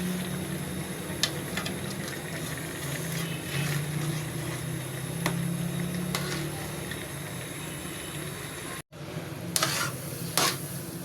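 Carrots simmering in milk in a frying pan, a soft continuous bubbling sizzle with scattered stirring scrapes and clicks, fairly quiet, no speech.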